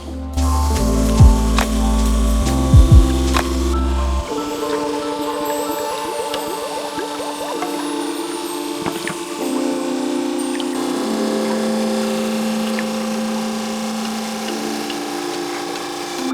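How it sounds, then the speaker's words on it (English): A Supermax drum sander grinds steadily through skateboard lumber in a woodshop, a loud, continuous whir with a low hum at the start that gives way to an even, sustained sanding noise. "we're gonna run them through our Supermax drum sander"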